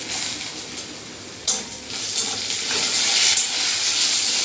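Whole cumin, dried chilli, bay leaf and cardamom sizzle in hot cooking oil, a steady close hiss broken by a few sharp crackles and pops, with no talking.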